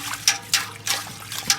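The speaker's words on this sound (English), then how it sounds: "Now let's go ahead and add the 32 ounces of water and whisk this really well." Water splashes and swishes as it is whisked into a turkey brine with lemon juice, in four or five quick strokes, close up, with no talking.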